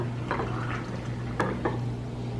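Pickling liquid poured into jars during a keto meal prep, with splashy trickling and a couple of clinking taps over a steady low background hum, fairly close and without talk.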